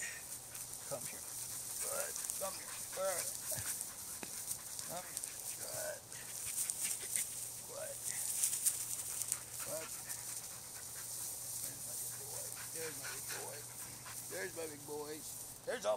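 Eight-week-old Norwegian Elkhound puppy brothers pant and snuffle close by, with occasional soft whimpers and movement sounds, while a person keeps talking over them throughout.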